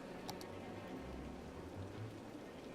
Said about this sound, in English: Oh, what's this rain?